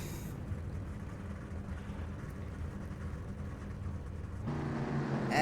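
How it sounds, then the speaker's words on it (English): Racing pickup trucks fire up their engines at Homestead before a race, making a low, steady rumble heard from a distance that swells louder near the end. "As they fire the engines, you hear the power in the trucks."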